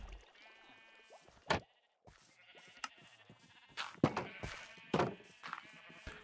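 Several sheep bleat in turn in a video game, some near and loud, others fainter, over a soft tinkling melody with a few dull thumps.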